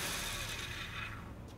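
A copy router running an end mill with oil spray active, a steady whirring machine hum with a high hissing tone that fades partway through, heard alone at a moderate level.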